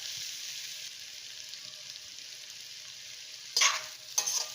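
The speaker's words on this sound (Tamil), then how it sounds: "இப்போது இந்த பன்னீரும் சேர்த்து நல்லா ஃப்ரை பண்ணிண்டாச்சு." Paneer frying in a pan gives a steady sizzle. Near the end comes a short burst of scraping as it is stirred, then a second shorter one.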